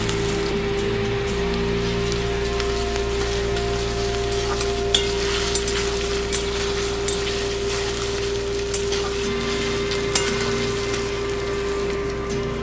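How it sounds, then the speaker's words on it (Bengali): A large onion frying with ginger in a pan for khichuri, a steady crackling sizzle with a constant low hum beneath and occasional small pops, close and continuous without voices. "একটা বড় সাইজের পেঁয়াজ আমি দিয়েছিলাম। ভালো করে আমি এটা ভেজে নেব।"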